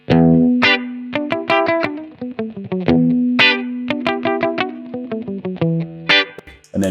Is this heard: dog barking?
no